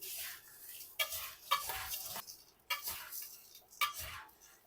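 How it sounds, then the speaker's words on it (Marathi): Warm chivda snack mix being stirred with powdered sugar, dry rustling scrapes and light clatter in short separate bursts, fairly faint. "कोमट असतानाच आपल्याला ही पिटी साखर घालायची आहे पिटी साखर पण चांगली मिक्स करून घेऊया"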